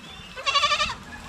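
A single goat gives one short, wavering bleat close by, rising out of quiet farmyard background noise.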